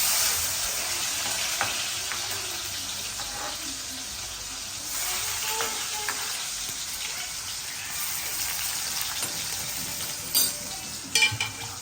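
Tomatoes go into a hot pan for a brinjal (vangyachi bhaji) curry, frying with a close, continuous sizzle while a spoon stirs and scrapes, with sharper knocks near the end and no talking.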